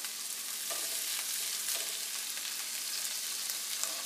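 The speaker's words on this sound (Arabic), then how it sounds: "دابا غادي ندوزو باش غادي نشحروا هاد الشامبينيون" Mushrooms sautéing in a pan along with other ingredients and cooked fish, a steady soft sizzle with occasional light stirring scrapes, close and alone.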